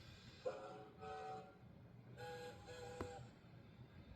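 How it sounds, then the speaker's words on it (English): Steam engine whistle from a Thomas and Friends video game, a couple of short tonal toots sounding a little distant over a low rumbling background. "Here's different Hughes whistle."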